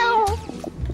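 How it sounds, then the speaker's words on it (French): A cat meows loudly and close in the Fortnite video game, a drawn-out tonal cry followed by lower rumbling game sounds. "mais pourquoi y a un chat ?"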